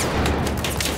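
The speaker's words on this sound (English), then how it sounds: "Grenades everywhere!" Grenades bursting in a chaotic video game firefight, a quick run of dense, rumbling blasts and crackling debris filling one loud second with no voices.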